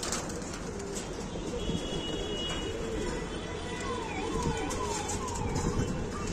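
Pigeons cooing outdoors on a windy day, soft repeated coos and bird calls over steady wind rumble and background noise.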